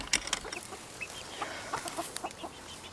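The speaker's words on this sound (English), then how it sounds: "Now we're going to let the chickies out." Chickens on a farm cluck and chatter in short, scattered bursts as they are let out of their coop, fairly close with light background noise.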